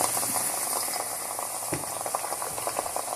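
Chopped garlic tipped into browned onions frying in a pan for a chicken wings karahi, giving a steady close sizzle and bubbling with small rattling clinks from the pan and spoon, no voices.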